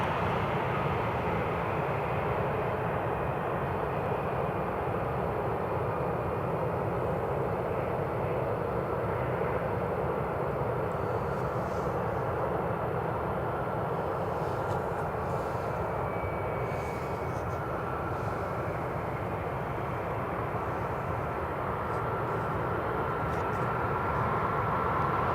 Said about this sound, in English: we've got an RAF A400 just on final approach